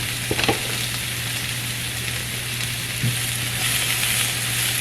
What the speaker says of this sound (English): to go ahead and put the onions in. And I'm going to let these cook